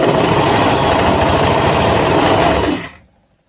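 A sewing machine stitching a lettuce hem on a tube top runs loud and close with a steady, fast mechanical whir, then stops abruptly near the end.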